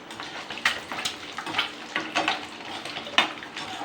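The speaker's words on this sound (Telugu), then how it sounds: "ఎగ్ కట్ చేసుకున్న ముక్కలన్నీ ఆయిల్ వేసుకొని ఫ్రై చేసుకోవాలి." Pieces of cut boiled egg frying in hot oil in a pan, a soft continuous sizzle broken by sharp scraping stirs and spatula clicks at an irregular rhythm, close and moderately loud, with no voices.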